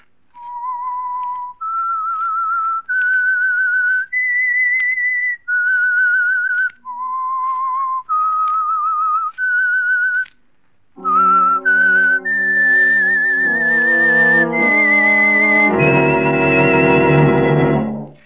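A clear whistled melody of sustained, gliding notes in short phrases, the 1948 radio show The Whistler's theme, loud and close, with a fuller instrumental chord swelling in at the end.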